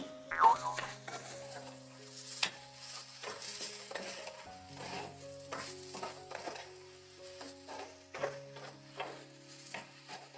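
Drumstick pieces are stirred with salt and turmeric in a cooking pan, with a spoon scraping and clinking against the pan in irregular strokes over a soft sizzle, close and fairly quiet.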